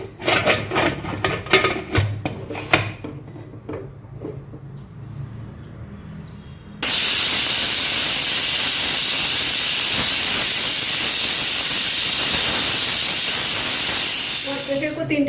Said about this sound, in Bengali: প্রেসার কুকার 3টে হুইসেল পড়ে গেছে